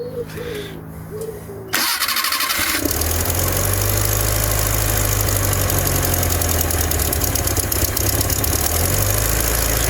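An abandoned Bedford Rascal van, unstarted for six years, cranks and catches after a brief quiet lead-in, then settles into a loud, steady, rumbling idle that runs close by to the end.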